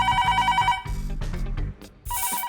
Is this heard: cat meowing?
no